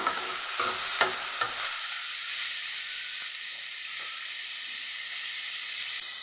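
Spinach and green chillies sauté in a pan with a strong steady hiss of frying, a few clattering stirs at first, then an even sizzle on its own.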